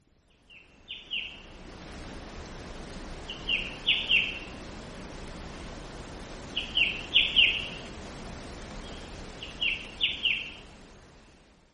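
A bird sings in short bright phrases, four bursts of chirping spaced a few seconds apart over a steady soft hiss of background noise.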